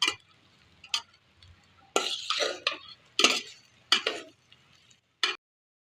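Rice is slowly stirred into mango pulihora in a pan, with a series of scraping, clinking spatula strokes in short separate bursts against a quiet background.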